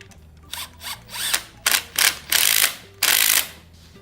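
A ratchet wrench tightens bolts while installing the cylinder head on a Subaru Forester. The clicking comes in short and longer close bursts, growing louder and more continuous toward the end, with no talk over it.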